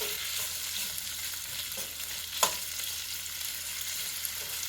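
Bacon and hot dog frying together in a hot cast iron pan with olive oil, giving a steady, dense crackling sizzle throughout with one brief sharper pop near the middle.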